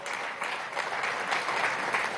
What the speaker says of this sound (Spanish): a los cuales pido un aplauso